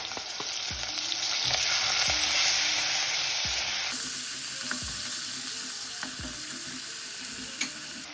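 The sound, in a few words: stirring spices and ginger garlic chili paste frying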